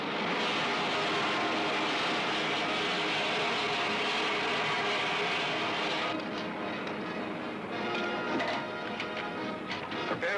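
A propeller aircraft engine roars loud and steady as it approaches to land beyond a range of hills, then the drone thins and softens partway through as the plane descends.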